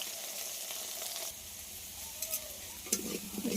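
Taro pieces fry in hot oil with a constant crackling sizzle, joined by spatula scrapes and a couple of louder stirring clatters toward the end.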